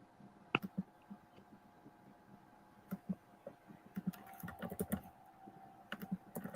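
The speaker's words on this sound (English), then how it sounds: "You hear him typing in the background." Soft keyboard typing clicks along in irregular bursts, close but quiet, picking up pace in the second half over a faint steady hum.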